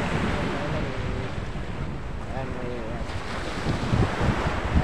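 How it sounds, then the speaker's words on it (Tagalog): Wind rushes over the mic while choppy sea waves wash in the background off San Andres, Quezon, a steady noisy sea ambience with brief faint tonal sounds. "medyo maalon-alon gawa ng hanging bumagsak"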